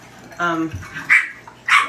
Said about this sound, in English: if you guys hear the little barking, don't mind it. I have puppies,